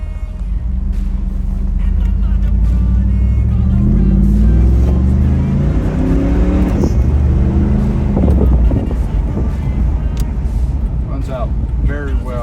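A 1996 Pontiac Trans Am WS6 with a 4L60E automatic and aftermarket Trick Flow exhaust drives along, its steady low engine rumble close and loud throughout, with wind buffeting and a voice talking over it.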